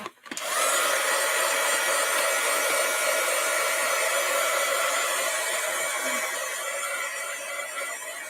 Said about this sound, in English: I'm going to turn the heat tool on again